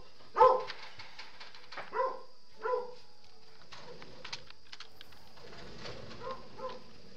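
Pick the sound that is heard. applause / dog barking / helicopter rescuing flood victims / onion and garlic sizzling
dog barking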